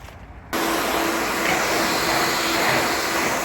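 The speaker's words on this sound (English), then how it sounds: "we've nicked the house hoover attachment to do this" A household hoover attachment switches on abruptly and vacuums a case, a loud steady whooshing roar with a constant motor tone that holds unbroken to the end.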